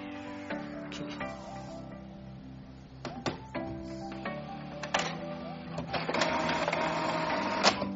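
An HP 4535 inkjet printer works through a copy, its motors whirring and its print head shuttling back and forth with repeated clicks and clunks, steady and fairly close throughout with no speech.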